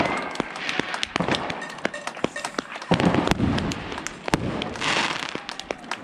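Fireworks explode outdoors in daylight with sharp, irregular bangs and crackles, some loud and near and others fainter and farther off, scattered across the whole stretch.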